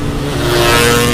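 A 2014 Suzuki Satria FU motorcycle engine screaming at high revs, a loud, sustained, close whine that holds steady without a break.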